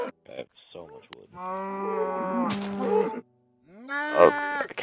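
A cow in a survival island video game moos in long, harmonic calls between short choppy bursts, close and moderately loud, with a person talking around it.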